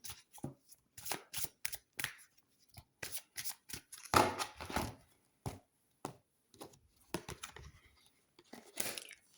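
Tarot cards shuffled and handled during a love reading, a run of close, crisp riffling and slapping bursts with short pauses between them, no talking.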